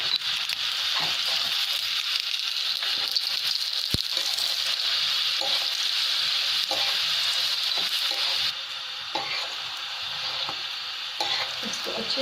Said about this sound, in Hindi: इसको अच्छे से आप फ्राई कर लें और थोड़ा सा कोशिश करें कि घी ज़्यादा डाल लें